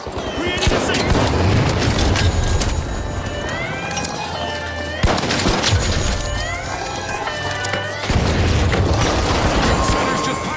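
Frag grenade blasts in the game-show shooter The Finals land amid dense, continuous gunfire, mechanical clatter and booms, with several sharp bursts breaking through the loud, busy battle noise.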